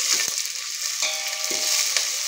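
Green bean pieces, grown in a home garden, go into a hot pan with green chillies for Andhra-style sambar, giving a steady close sizzle with a few soft stirring scrapes and knocks.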